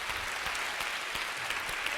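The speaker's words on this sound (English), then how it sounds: "I want a big round of applause again for all of these panelists." An audience applauds panelists at a women-in-leadership discussion event, a steady, dense wash of many hands clapping that continues without a break, with no voices standing out.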